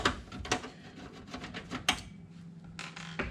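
Two screws are removed from an SSD drive cradle inside a desktop computer, heard as faint, close metallic ticks and small scraping clicks with brief pauses between them.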